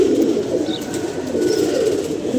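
Pigeons cooing in a low, continuous murmur, several birds close by, with a couple of faint higher chirps over the steady hum and no talking.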